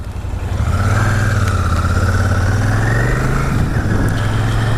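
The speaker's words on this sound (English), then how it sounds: "The sound off that exhaust is beautiful." A Royal Enfield 650 Shotgun motorcycle's exhaust rumbles loud and close during a test ride, a deep steady throb that swells as the engine revs, with no talk over it.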